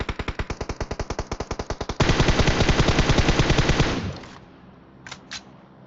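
Automatic gunfire in PUBG Mobile: a loud, steady burst of evenly spaced shots that speeds into a dense rattle for a couple of seconds, then cuts off, leaving two faint short pops.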